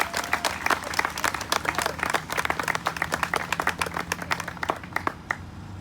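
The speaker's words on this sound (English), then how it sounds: "So you also deserve a round of applause." An audience at a community anti-racism event applauds in a lively, dense burst of many hands clapping, fairly close and sustained throughout without talk.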